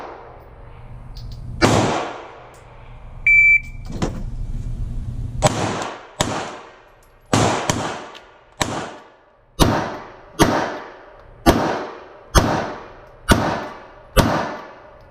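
Walther PPQ5 Match pistol fired on a shooting course: about a dozen sharp, loud reports, a few spaced early on, then a steady rapid string near the end, each with a short ringing decay, close to the mic.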